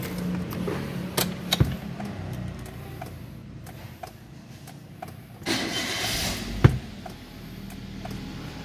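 A 2012 Toyota Avanza 1.3G starts up with the door open, giving a brief cranking burst followed by a quiet idle, with a few clicks and thuds around it, fairly faint and with no talk.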